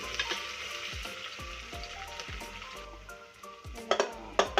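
Onion and ginger-garlic paste fry for chicken biryani while a spoon stirs them in the pan, giving a steady sizzle with rhythmic scraping and a few sharp metal clinks near the end.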